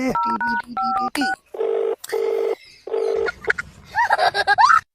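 A quick run of phone keypad tones is followed by three evenly spaced ringback tones, then a faint voice comes through the line.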